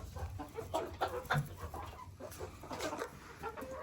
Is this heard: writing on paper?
no